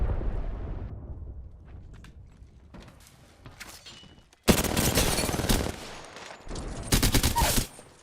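Video game gunfire during a match, with quiet scattered shots first and then a loud burst of rapid fire that stops, followed by another heavy volley near the end.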